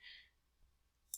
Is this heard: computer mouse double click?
yes